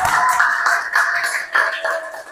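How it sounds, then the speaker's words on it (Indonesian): A class claps together after a rhythmic counting clap game during a teacher's ice-breaking session, a few quick bursts of hand claps in an uneven rhythm, close and fairly loud, with some voices mixed in. "Tepuk tangan untuk kita semua."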